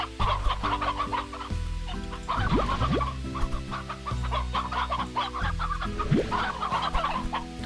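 Rooster and several hens clucking in the survival game Savage Lands, a steady run of close, overlapping clucks and squawks layered over a continuous game soundtrack.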